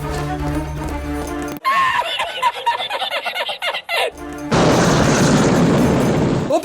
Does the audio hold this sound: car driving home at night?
no